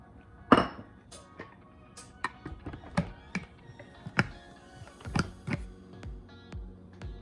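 About one and a half cups of oats go into a blender jar for a vegan carrot cake, giving scattered light clinks and taps against the container, close and uneven, with no talking.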